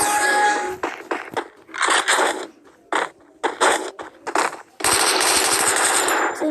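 Rapid automatic gunfire in the mobile shooter game Free Fire Max rattles out in loud bursts with short gaps, ending in a long sustained volley, with no talking over it.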